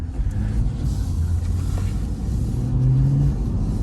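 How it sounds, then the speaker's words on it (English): A 2021 Chevrolet C8 Corvette pulls out of a dealership lot, its engine a steady low rumble with a mild rise in revs, heard from inside or close by with no talking. "So here's Ken just taking out the Corvette for the first time out of the lot."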